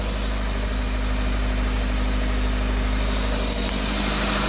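A turbocharged EF sedan with a freshly fixed fuel pump problem idles steadily close by, a constant loud rumble with no talk over it.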